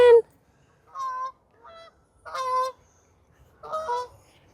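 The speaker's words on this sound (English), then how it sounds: "There's a goose coming in." Geese flying in honk in a series of four or five separate calls, close and clear against an otherwise quiet outdoor background, with short silent gaps between the honks.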